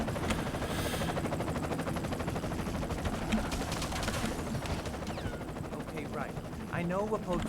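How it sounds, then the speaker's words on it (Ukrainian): Gameplay from the video game BloodRayne 2 has a helicopter in the scene, and the rotor roar sits among steady, dense machine-gun fire and loud battle noise throughout, with brief game sounds near the end. "І ще й гелікоптер там."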